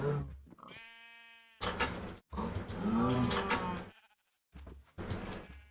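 Cows in the Minecraft modpack Agrarian Skies give several short moos and bleating calls, separated by brief gaps, close and clear with no talking.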